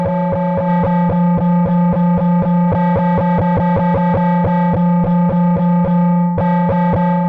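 A distorted, resonating synthesizer tone plays loud and steady, with a fast repeated rhythmic pulse over a sustained buzzing drone and a brief break near the end, alone with no talking.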